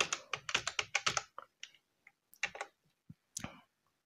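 Someone types an Excel formula on a computer keyboard: a quick close burst of key clicks, then sparser single taps and short clusters, with no talking.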